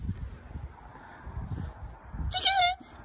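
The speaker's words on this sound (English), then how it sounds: "Chickens!" Low thumps and rustling lead into one short, loud squawking cluck from a nearby chicken near the end.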